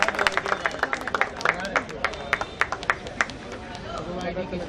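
Audience applause welcoming a speaker onto the stage at a business gathering, with sharp scattered claps rising and falling in bursts over a murmuring crowd for several seconds.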